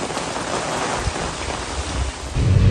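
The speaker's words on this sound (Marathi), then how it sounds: "पाऊस लय बेकार लागताय" Heavy monsoon rain pours in the Konkan countryside, a dense steady hiss of drops on surfaces with a low rumble that swells near the end, no voices.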